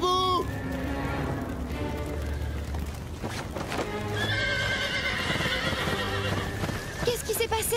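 Horses in an animated series episode about a fire neigh and whinny repeatedly over a steady, close clip-clop of hooves, with voices calling out at times.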